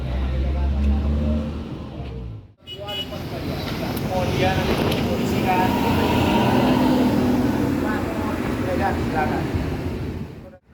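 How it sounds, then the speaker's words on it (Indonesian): An ANS coach bus arriving at a bus terminal, its engine droning loud and close before easing off, then a long steady roar with rumbling and station bustle, and a voice talking over parts of it. "bus ANS yang baru saja datang dari arah Bukit Tinggi pukul tepat jam setengah 10 pagi"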